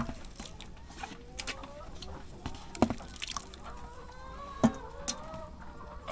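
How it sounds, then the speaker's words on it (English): Several backyard chickens cluck and squawk near a feed tray, irregular soft clucks with a few sharper calls, while a person talks quietly in between. "The chickens clear it up pretty well."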